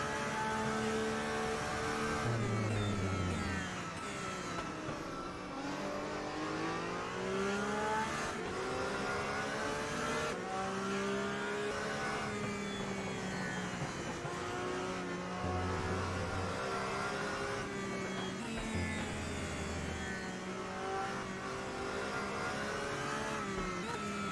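Race cars lapping the Sepang circuit in a GT racing video game, with several engines whining loudly and continuously, pitch rising and falling through gear changes as cars run close together in traffic.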